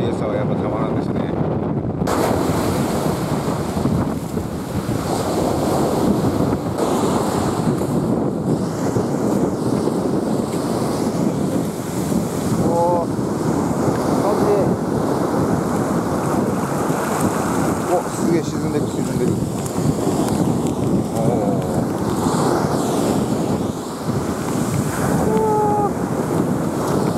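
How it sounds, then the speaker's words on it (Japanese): Ocean surf at a beach in Okinawa on a drizzly day, with steady wind buffeting the microphone throughout, a continuous loud roar of waves and gusts. "ちょっと風の音もしかしたらすごいかもしれないですけど、綺麗な海です"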